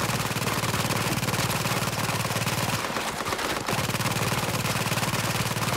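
Sustained automatic enemy gunfire in the shooter game Tom Clancy's The Division, a dense rapid stream of shots that briefly breaks off near the middle before resuming just as loud.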